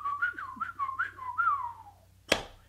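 A person whistles a wavering, chirpy melody imitating the Tweety Bird cartoon sound, a few rising and falling notes ending in a brief sharp noise.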